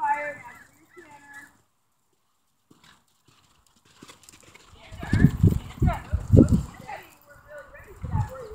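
A ridden horse canters during a training session, with quick clip-clop hoofbeats that start midway and grow loud and close, while an instructor talks before and during.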